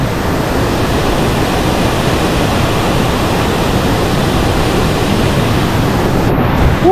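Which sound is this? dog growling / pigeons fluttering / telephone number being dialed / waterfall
waterfall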